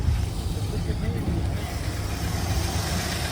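A 1971 Ford F-100 pickup engine idles, a continuous low rumble running steadily and close throughout.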